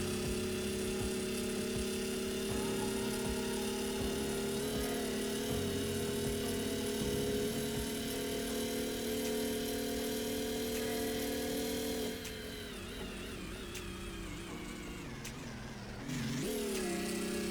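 A supercar built in the GearBlocks vehicle-building game revs hard as it climbs through the gears, a loud, steady, buzzing engine drone that holds for about twelve seconds and then dips and rises again as it shifts.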